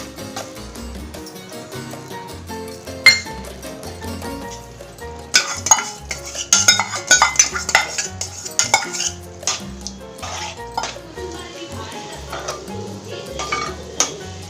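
Mushroom masala with chili powder being stirred in a pan for mushroom pulao, a spoon scraping and clinking against the metal over a soft sizzle, busiest in the middle with sharp knocks, alongside a steady musical backing.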